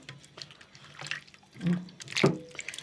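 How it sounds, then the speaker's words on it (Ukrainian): Tap water runs and splashes while a piece of raw pork fat is rinsed in a sink, soft trickling broken by a few louder drips and sloshes, close and unaccompanied. "Хай трошки вимокне. Я його гарно вимию."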